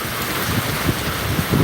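A brief stretch of steady, loud rainfall hissing continuously, with a soft low rumble of thunder underneath, during a heavy thunderstorm in Zaheerabad.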